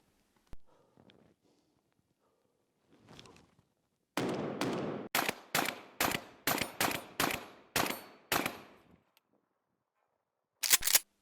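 A 12 gauge shotgun fires in a rapid string of about nine loud, sharp blasts outdoors, then one more shot after a short pause, used to test a Vzor-1 red dot sight.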